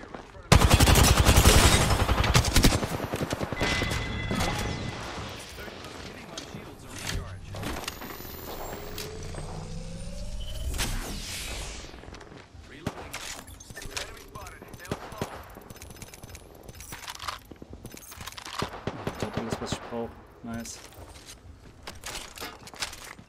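Gunfire in the shooter Apex Legends, with a Path-style G7 rifle in play: loud bursts of rapid shots up front, then scattered single and clustered shots mixed with game effects, while a voice talks over it.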